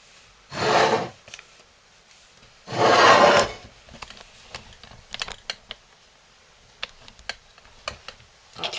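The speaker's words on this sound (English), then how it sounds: "Now, look at the crock pot. I'm going to scrape that out" Hot homemade laundry soap scraped out of a crock pot with a spatula: two loud rasping strokes, each about half a second long, followed by scattered small clicks and taps. No voices.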